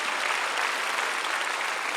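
Crowd applause at an outdoor prayer rally for peaceful reunification at the Peace Plaza of the War Memorial in Seoul, a dense, steady wash of many hands clapping at once, even in level throughout, with no speech over it.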